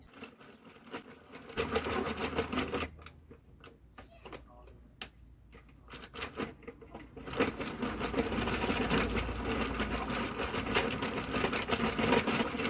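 Hand-cranked 22-pin Knitting Circle knitting machine, a rapid mechanical clicking and whirring that starts, pauses briefly, then runs steadily again, close by and fairly quiet.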